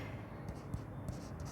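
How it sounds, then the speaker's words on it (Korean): Soft, quiet scratching of a pen or pencil writing by hand on paper, a few faint strokes in short bursts with no speech. "예쁘게 써볼게요"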